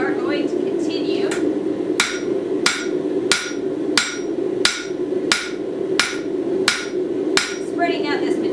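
A hammer strikes stainless steel to spread it out, landing about a dozen sharp metallic blows at a steady rhythm of roughly one every two-thirds of a second, close and clear over a low background hum.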